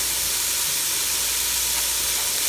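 Bacon strips hiss in a Ninja Foodi, a bright, even sizzle that stays constant and fairly loud throughout with no talking.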